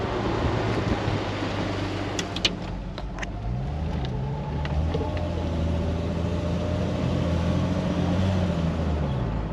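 A 1999 Jeep Wrangler engine running steadily from inside the cab, a loud continuous drone with pitch rising and falling as it shifts through gears, a few brief clicks early on, no talking.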